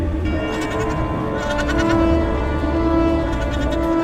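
Goats bleating near a goat herder in a film, a loud, steady bed of overlapping bleats with a constant low rumble and buzzing under it, no voices.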